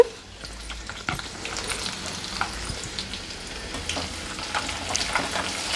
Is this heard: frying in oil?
yes